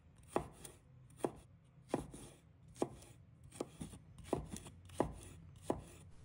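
A knife chopping a handful of garlic cloves into slices on a cutting board, with about nine evenly spaced crisp cuts close by and no voices.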